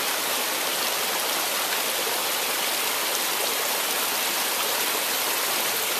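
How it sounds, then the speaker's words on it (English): A mountain stream on the Appalachian Trail, between Cosby and Pigeon River, rushes downhill in a steady, full, close hiss of churning water that never pauses or changes. "we've been following the stream down the hill."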